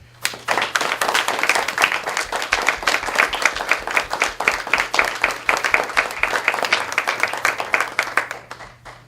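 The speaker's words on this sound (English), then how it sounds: "So I want to give these two one more round of applause." Applause for two graduates at a graduation ceremony, a dense, lively round of clapping from a room of people, steady and close for several seconds before tapering off at the end.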